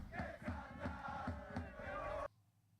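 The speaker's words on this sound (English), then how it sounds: "The fans are cheering" Football fans in a Serie A soccer video game chant in a steady rhythmic pulse, a dense crowd roar with repeated beats that stops abruptly near the end, leaving near silence.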